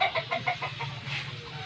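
Mud-covered chickens walking through wet, muddy ground cluck in a quick run of repeated close calls, then quieter murmuring, with no voices.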